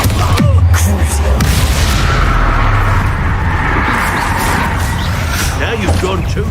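In the Hogwarts Legacy video game, Confringo and Bombarda spell explosions boom loudly and continuously during a final battle, with dense rumbling blasts and crashes layered over voices.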